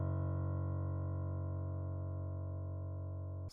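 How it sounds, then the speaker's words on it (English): A synth bass note from the Keyscape instrument in FL Studio, one steady sustained tone rich in harmonics that holds evenly and cuts off abruptly at the end. "So next thing I added was a bass note caused out of keyscape, and the bass note itself sounds like this."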